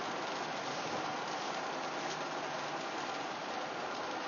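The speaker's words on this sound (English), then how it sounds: "This is in transit and it's raining." Steady rain drums on a moving car in transit, a dense even hiss that stays close and constant throughout with no talking.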